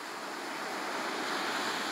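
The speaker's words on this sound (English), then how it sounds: "Wind and Sea Beach with the waves" Ocean waves at Windansea Beach, a steady loud rush of surf with wind noise over the microphone, continuous and broadband with no talk.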